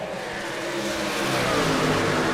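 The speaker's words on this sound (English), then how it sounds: "The number 19 of Keith Ayers and James Napier roaring around turns 3 and 4 in a battle for second place" Racing trucks roar around an oval's turns 3 and 4 in a battle for second place, with loud, close engines revving and building steadily with no talk over them.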